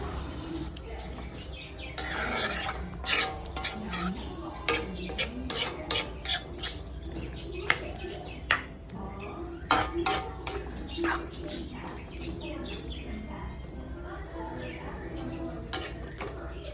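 Spicy prawn gravy being stirred in a pan, with repeated scraping and clinking of a utensil against the metal in uneven bursts over a steady background hum.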